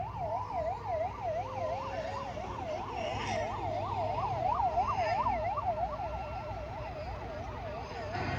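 An ambulance siren wails in a fast, continuous up-and-down pattern during a CISF emergency drill, loud and steady for the whole stretch with faint background noise.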